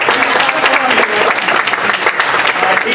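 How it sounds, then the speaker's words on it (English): An audience at a school board meeting applauds in dense, continuous clapping from a room full of people, steady and loud throughout, with faint voices underneath. "Clap for him"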